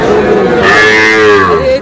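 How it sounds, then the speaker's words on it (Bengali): A young Sahiwal bull calf at a cattle market in Manikganj lets out one loud, close, drawn-out moo lasting nearly two seconds, with faint crowd noise underneath. "ষাঁড় বাচ্চা"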